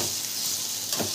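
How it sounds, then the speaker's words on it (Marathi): Okra (bhindi) fries in a pan over low gas, a steady close sizzle with a faint stir near the end. "अशी मी भेंडी फ्राय करून घेत आहे"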